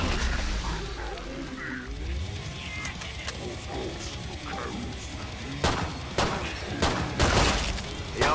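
Gunfire in Killing Floor 2 crackles in bursts against a rumbling combat background, with sharper, louder shots clustering toward the end and a voice speaking earlier.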